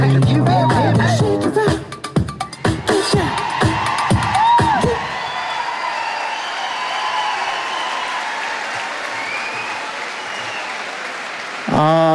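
An audience at a local Strictly Come Dancing charity night bursts into loud, sustained applause and cheering as the music ends, with clapping and whoops filling the hall.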